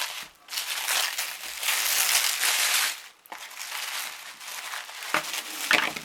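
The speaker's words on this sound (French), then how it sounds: "Je déballe." A package is unwrapped by hand, with continuous crinkling and crumpling of wrapping material close up, plus a few brief rustling pauses and soft tearing.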